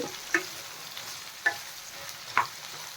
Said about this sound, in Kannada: ಬೆಂಡೆಕಾಯಿ ಎಲ್ಲ ಬೇಗನೆ ಫ್ರೈ ಆಗೋಗುತ್ತೆ. ಎಣ್ಣೆಯಲ್ಲೆಲ್ಲ ಚೆನ್ನಾಗಿ ಫ್ರೈ ಆಗಬೇಕು.